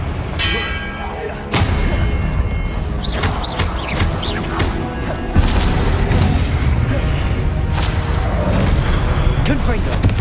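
Confringo blasting spell explosions in the Hogwarts Legacy video game, loud repeated booms and crashes with sharp bursts and sustained rumble under game music and effects, a voice calling out spell names.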